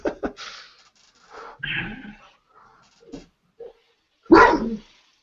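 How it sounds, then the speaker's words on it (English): A dog in a home barks in several short bursts, with a louder, closer bark near the end, no speech over it. "There's one dog under the table."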